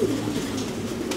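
Pigeon cooing nearby, a blue bar racing pigeon just released by its owner, giving a low, throaty coo that runs steadily through the whole short moment.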